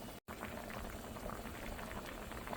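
Hilsa fish curry with sweet pumpkin boils in a pot, giving a steady, dense bubbling that stays even throughout, broken only by a momentary dropout near the start.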